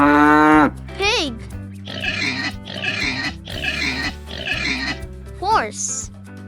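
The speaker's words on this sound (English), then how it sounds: "Pig." Farm pig oinking and grunting in a quick series of rough snorts, loud and close, after a short tonal vocal note at the start.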